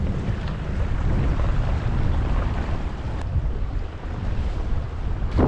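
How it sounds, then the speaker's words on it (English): Choppy, whitecapped waves slap around an electric raft out on open water in high wind, with heavy wind rumble buffeting the microphone in a loud, steady roar and no voices. "we're starting to get a little bit of, like, I guess, white capping going on the waves"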